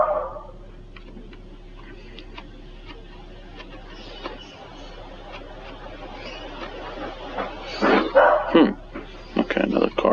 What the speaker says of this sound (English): My dog, I have one pretty loud dog.